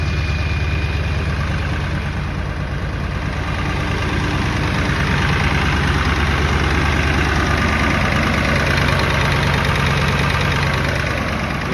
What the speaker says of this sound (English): Got her set on a high idle.